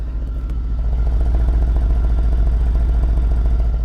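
A car idles close by with a steady, even engine and exhaust burble from a carbon-fiber-wrapped exhaust, a low pulsing drone throughout with no talk.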